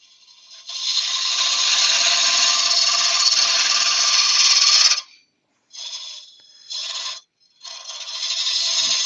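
A wood lathe runs in reverse while a laburnum log slice is turned, giving a loud, steady, high scraping whine from the cutting tool that cuts off abruptly, then returns in short bursts before resuming, with no talking.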